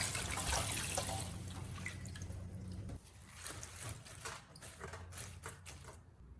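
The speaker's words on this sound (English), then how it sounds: "Once rinsed, I place them in a colander to drain well." Rinsed green onions drain in a colander, with water trickling and dripping steadily, loudest at the start, then a lighter patter of drops with scattered clicks; no talk.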